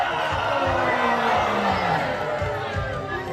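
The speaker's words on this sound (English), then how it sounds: "Now let me hear you all cheer for your houses" A large crowd cheers and shouts at a castle show at Warwick Castle, a loud, steady roar of many voices with whoops and chatter blended in.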